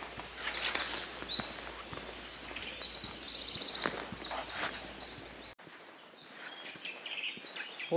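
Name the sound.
birds singing in woods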